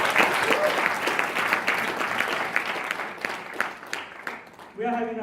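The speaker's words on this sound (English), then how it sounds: "I'll give a big round of applause to Nick once again, guys." A training-session audience gives a round of applause, dense clapping that thins out toward the end before a brief voice cuts in.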